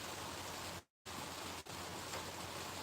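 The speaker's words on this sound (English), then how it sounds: "The rain's quite bad here at the moment" Heavy rain falling outdoors as a dense, continuous hiss, briefly cut off once, with no voices.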